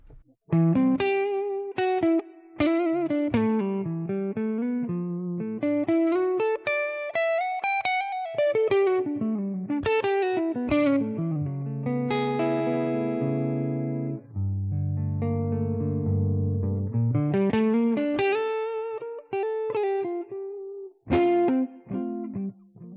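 Distorted electric guitar plays a melodic solo through a Tonex One amp model, with sustained bends and a low held passage, washed in reverb, played alone.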